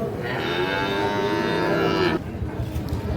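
A four-month-old Sahiwal bull calf lets out a single long, loud moo at a busy cattle market and then stops, with background market bustle continuing after it.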